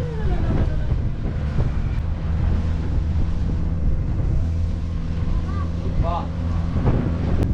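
A small boat rides strong sea waves off Tanjung Lesung. Water wash and gusting wind buffet the microphone over a steady motor rumble, and people talk briefly.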